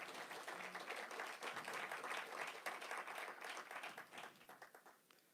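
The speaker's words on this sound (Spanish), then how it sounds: "Dale palmas al Señor." A church congregation claps together in a dense, lively round of applause that carries for several seconds, then thins into scattered claps and fades away near the end.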